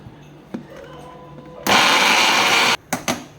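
A mixer grinder blending cucumber tomato chutney roars loud and close for about a second, then cuts off, followed by a couple of short bursts and clicks of handling.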